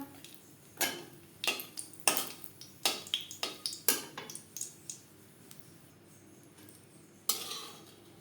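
Two dried red chillies hit two spoons of hot mustard oil in a kadai, giving a quiet sizzle broken by about a dozen sharp, close spatula scrapes and clinks on the metal pan, spaced irregularly, with one last clack near the end.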